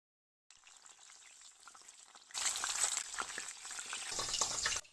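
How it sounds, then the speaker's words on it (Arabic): Small cubes of green zucchini frying in a little oil: after a moment of silence a soft sizzle starts, then jumps to a loud, close, bubbling fry with stirring and spattering that continues steadily before cutting off. "نحمروهم في شوية زيت،"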